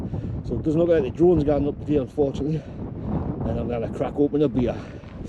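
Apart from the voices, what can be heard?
wind on a hilltop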